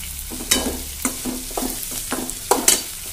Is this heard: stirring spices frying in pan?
yes